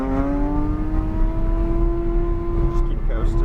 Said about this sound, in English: And I'm going to let one more car pass.